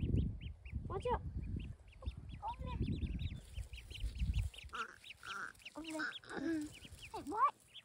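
Ducklings peeping and quacking close by in a rapid, high-pitched chorus of short calls, mixed with low thumping and shuffling noises, while a person talks intermittently.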